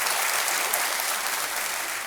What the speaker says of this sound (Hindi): और तालियों के साथ इनका भी स्वागत करते हैं।